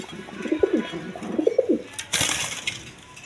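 Yellow Rajgolla pigeons cooing close by, several soft rolling coos in short bursts followed by a brief rustle or flutter, with faint background noise.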